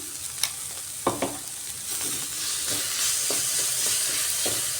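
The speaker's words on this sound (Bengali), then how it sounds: "মশলাটাকে ভালো করে কষাতে হবে" Green chilli and seed paste stirred and sautéed in a hot pan, with a steady close sizzle and a few sharp spoon scrapes early on, frying hiss building louder toward the end.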